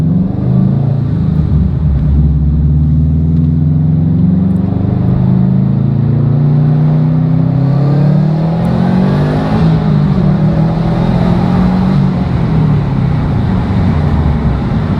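A stage 1 Subaru WRX STI S209 strains through a full-throttle dyno pull, its engine roaring loud and close as the pitch climbs steadily for about fifteen seconds, with no talking over it.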